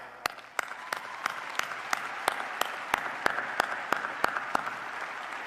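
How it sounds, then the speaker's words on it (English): Commencement crowd clapping at a university ceremony after a dean's introduction: sparse, fairly faint applause with a regular series of sharp, louder claps standing out near the microphone over the distant crowd. "Round of applause."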